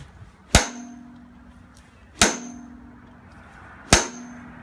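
A metal lacrosse head struck three times in a break test, each whack a sharp ringing clang with a short metallic decay, spaced evenly apart in a quiet room.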